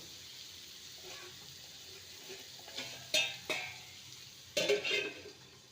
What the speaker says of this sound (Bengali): ভালো করে নেড়ে নিয়ে লো টু মিডিয়ামে রেখে আলুটাকে ভালো মতো কুক করে নেব